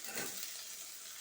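Green chilies sizzle in hot oil in a pan along with curry leaves, a brief, soft, hissing fry with a slight stirring scrape near the start, heard on its own.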